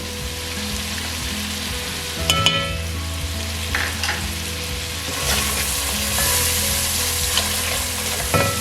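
Chopped green chillies hit hot oil in a pan while cooking kadhi pakora with onions, giving a steady close sizzle and frying hiss with stirring clatter that swells partway through.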